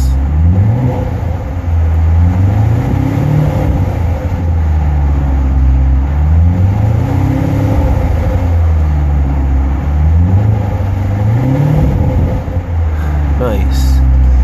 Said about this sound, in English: Alright, let's go ahead and give it a few revs.